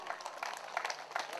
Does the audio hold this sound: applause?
yes